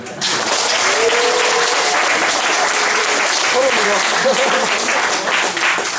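A crowd claps steadily and loudly for several seconds at a climbing gym awards ceremony, with a few voices calling out over the applause.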